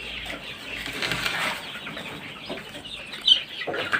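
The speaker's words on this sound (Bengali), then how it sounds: "এগুলো হচ্ছে ফার্মি মুরগি মিশরীয় ফার্মি মুরগি" Egyptian Fayoumi chickens cluck softly amid a busy, hissy background, with brief fluttering and scattered bird noises, no voices present.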